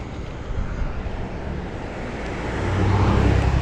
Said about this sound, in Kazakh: Машина көп болып тұр.